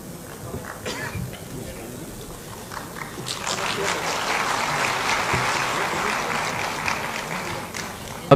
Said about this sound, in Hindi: भरपूर तालियों में इस्तकबाल कीजिए शबीना अदीब साहिबा का